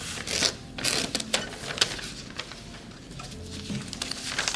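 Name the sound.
tearing origami paper by hand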